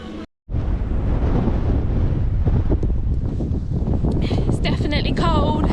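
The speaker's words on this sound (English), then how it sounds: "It's definitely cold, windy." Cold wind on a beach in New Zealand's far south roars and buffets the microphone in a continuous loud rush after a brief dropout, with faint voices near the end.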